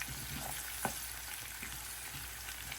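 Chopped onions sweat in a hot pan with a faint, steady sizzle and crackle, broken by a few soft taps from the spoon.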